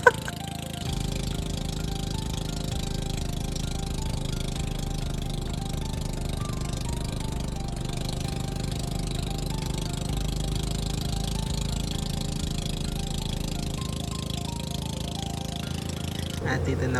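A steady engine hums and rumbles at an even level for the whole stretch, close by and continuous, with no talking over it.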